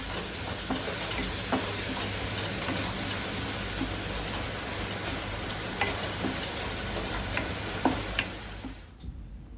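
Green chili and minced garlic sizzle and crackle steadily in a pan of curd kadhi as they are stirred, with a few sharp spoon clicks against the vessel before the sound cuts off near the end.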